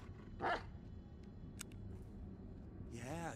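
A dog in the Blair Witch video game gives a single quick bark near the start, then faint rustles and clicks follow before a whining, whimpering sound rises at the end, over a quiet ambient hum.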